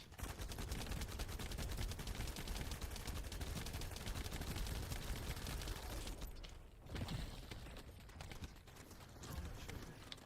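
Gunfire from The First Descendant as a full magazine is emptied, a rapid, continuous stream of shots that breaks off partway and resumes in shorter bursts.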